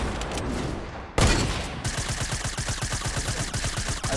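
Gunfire from a sniper rifle in Fortnite: one sharp, loud shot followed by a rapid, evenly pulsing stream of gunfire that keeps going.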